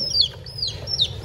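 A chick lifted out gives a few high, thin chirping peeps, close and fairly loud, over a low background rumble.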